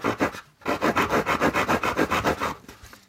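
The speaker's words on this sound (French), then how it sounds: "Ensuite, nous avons une scie à bois." A multi-tool knife's small wood saw cuts a piece of wood with about a dozen quick, even back-and-forth rasping strokes after a short pause, loud and close with no talk.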